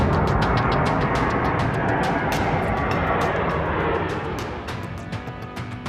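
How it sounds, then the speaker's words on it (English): A US C-17 military jet on its takeoff roll at an airport in Afghanistan gives off a loud, steady broadband jet roar that holds for several seconds and then eases slightly, with no voices. "US C-17 on its takeoff roll."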